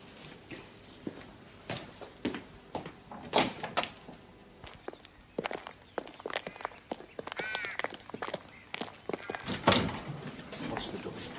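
A door opens or shuts with a series of sharp clunks and knocks, spread unevenly across the stretch and mixed with quiet voices and shuffling.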